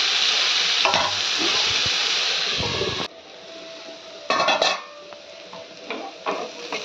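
Beans and radish fry in a pan with a bright, steady sizzle, and a utensil stirs and clinks against the metal. About halfway through the sizzle drops sharply, as if a lid is lifted or the heat shifts, and then a few more clattering stirs follow up close.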